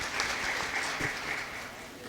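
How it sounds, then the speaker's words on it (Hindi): Steady applause from a seated audience at a Hindi kavi sammelan poetry recital, a dense even wash of clapping that holds for about two seconds at moderate level. "एक बार जोरदार तालियां"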